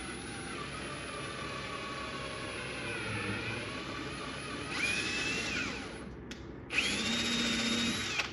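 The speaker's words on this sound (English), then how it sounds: "So a 1/4-20 tap requires a 13/64 drill bit. So no big deal. Just gotta drill a little bit bigger" A power drill with a 13/64 bit whines steadily as it bores into a metal carburetor, pitch rising and falling with pressure, stopping briefly before spinning up again.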